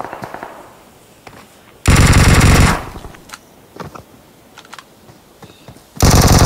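Gunfire aimed at the player in PUBG Mobile on the Erangel map: two loud, dense bursts, one near the two-second mark lasting about a second and another at the very end, separated by quieter scattered shots and clicks.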